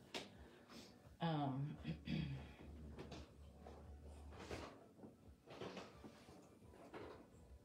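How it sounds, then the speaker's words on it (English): A dog knocks over a cardboard box during an indoor enrichment game, one thudding scrape and clatter close by followed by quieter shuffling and rustling of the box and scattered items. "So she's knocked the box over."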